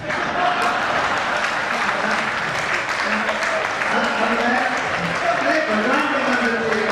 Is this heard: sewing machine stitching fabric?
no